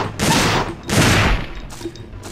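Rapid gunfire in the video game Dino Crisis 2, two loud sustained bursts of shots close up, alone with no talking.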